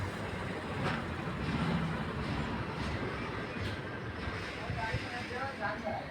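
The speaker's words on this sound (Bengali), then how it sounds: "অনেক বড় ট্রেন" A very long Indian freight train rolls past in a steady low rumble and broad noisy roar that holds throughout without a break.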